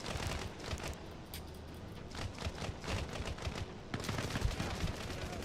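Arma Reforger gunfire on a King of the Hill server: rapid bursts of shots crackle steadily at mid distance, thick and continuous, with a denser, louder flurry near the end.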